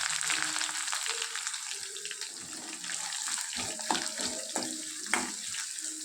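Chopped onions hit hot oil with dried red chilli and fry in a steady, close hiss and sizzle, with a few soft clicks of stirring toward the end.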